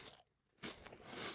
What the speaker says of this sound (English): Chad, You're literally chewing fucking chips as loud as you can into the microphone